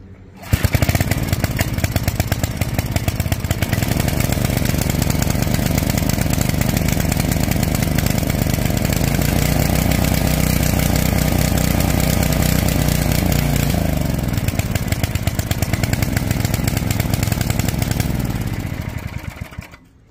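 A restored 5HP Briggs & Stratton small engine with a rebuilt carburetor runs loud and close, starting at once and holding a steady, buzzy roar for about twenty seconds before cutting off.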